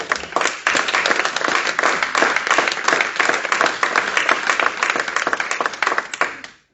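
A church congregation claps steadily and cheers in praise, a dense, sustained wash of applause that carries evenly for several seconds before cutting off abruptly.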